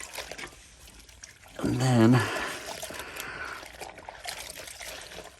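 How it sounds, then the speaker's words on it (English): Soapy water splashes and trickles as a rag is soaked in a bucket, a brief burst of pouring and sloshing in a quiet garage-like space, followed by faint drips and handling. Someone says a couple of words over it. "I'm going to get a wet rag and soak it with some soapy water."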